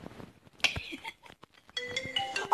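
A phone ringtone plays in short tonal bursts, a melodic electronic jingle that starts partway in and grows louder toward the end, with brief speech-like sounds and clatter before it.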